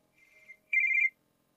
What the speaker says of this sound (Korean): 아빠한테 전화 왔네?